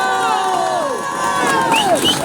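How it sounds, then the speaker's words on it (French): A rally crowd in Paris for Palestine cheers and whoops loudly and continuously, with overlapping voices rising and falling, close and dense, while applause stays buried in the noise. "qui sont là et qu'on applaudit."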